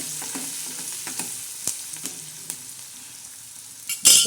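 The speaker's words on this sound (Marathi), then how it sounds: "आता हे चांगला साहलून घ्यायचा" Dried Bombay duck being sautéed and stirred in a pan, with a soft steady sizzle broken by several scraping spatula knocks and a louder clatter at the end; no voices.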